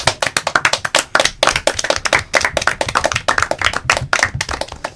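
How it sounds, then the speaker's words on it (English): Steady, lively applause from a small group, many hands clapping continuously for several seconds with no pauses, close by. "I think it deserves a round of applause"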